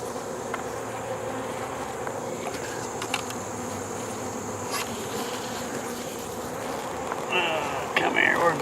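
Bees buzz steadily around a hive, with drones and worker bees droning together in a dense, continuous hum outdoors, occasionally swelling as insects fly close past.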